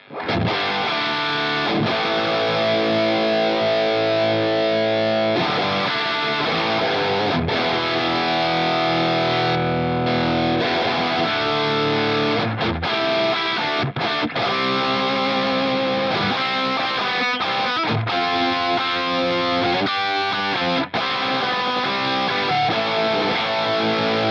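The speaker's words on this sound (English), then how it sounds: "So as you can hear, that's a really nice way to kind of boost up that amp." A distorted electric guitar plays chunky chords and riffs through a Marshall-style amp tone in an HX Stomp, boosted by a Minotaur overdrive, loud and continuous with brief pauses between phrases.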